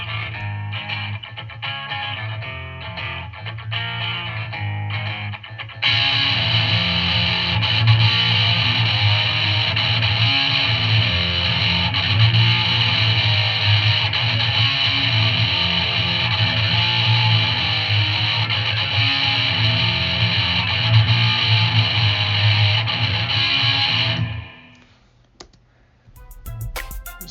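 Electric guitars play a clean passage in a grunge tone that shifts into a louder, heavily distorted section, sustaining before cutting off near the end.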